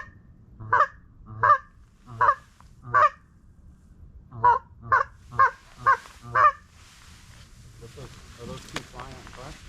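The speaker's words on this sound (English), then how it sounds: "You hear the geese? I heard geese." Geese honking near a coastal duck-hunting spot on Topsail Island, a rhythmic run of about nine loud, evenly spaced calls, then fading into rustle and faint voices.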